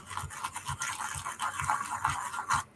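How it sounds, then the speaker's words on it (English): A toothbrush scrubs a metal stencil in rhythmic back-and-forth strokes, about six even passes, close and fairly loud, with no talking. "That's me using a toothbrush on a stencil"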